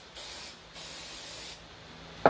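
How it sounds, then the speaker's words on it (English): Cooking pan spray hisses from a can onto a pizzelle iron in two short bursts, a soft close airy spray, ending with a brief clack. "So just spray a little bit."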